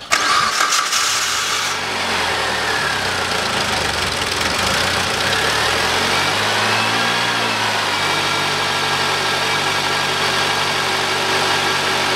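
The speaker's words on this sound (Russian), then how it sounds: "заводим автомобиль и прогреваем его до 45 примерно градусов" A 2007 Citroen C-Crosser with a 2.4 engine cranks briefly and catches, then settles into a steady, even idle that runs on loud and close with no talking.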